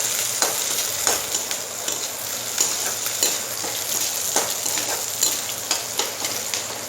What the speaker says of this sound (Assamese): পিঁয়াজখিনি ৰঙচুৱাকৈ ভাজি ল'ম।